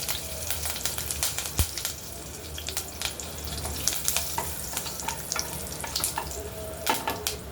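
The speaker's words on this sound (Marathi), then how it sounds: "पॅन तापलेला आहे फोडणी करून घेऊया फोडणीमध्ये कढीपत्ता हिंगाची फोडणी करायची आपल्याला" Curry leaves and asafoetida crackle and sizzle in a hot pan for a Marathi-style tomato saar tempering, a close, steady frying hiss with sharp pops and spatters throughout, no voices.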